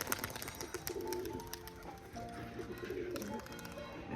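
Domestic Rajshahi pigeons coo repeatedly from a nesting pair in a loft, soft and fairly close, their low murmuring calls overlapping in a steady stream.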